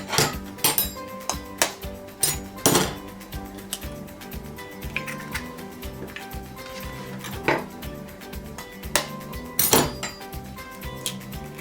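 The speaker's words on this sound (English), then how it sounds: "So now we're gonna put the eggs in the middle. You have to crack 3 eggs." Eggs cracked into a sausage and egg pie, heard as several sharp, separate taps and knocks against a hard edge among light kitchen clatter, fairly quiet and close.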